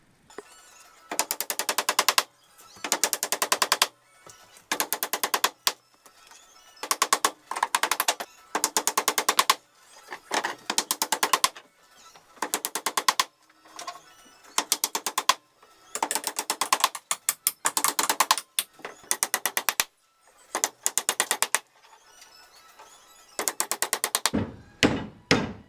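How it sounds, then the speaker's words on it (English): Bursts of rapid mechanical clattering from nailing off a bathroom subfloor over floor joists during a renovation, repeated sharp strikes in clusters separated by short silences, close and fairly loud. "I think I'm gonna just finish nailing this off right quick before I move on to my floor joist"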